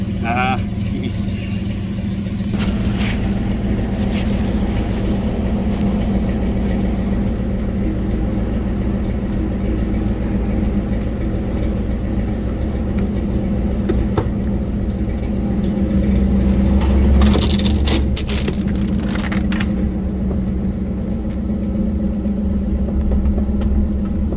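Engine of an off-road vehicle idling and pulling away for a desert test drive, a steady low rumble throughout that swells louder near the end as it gets moving.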